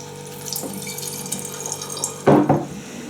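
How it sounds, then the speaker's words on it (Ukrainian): Fly agaric tincture liquid trickles and splashes as it is poured into a jar, with soft dribbling sounds followed by a brief louder gush near the end. "зараз потрохи наливати"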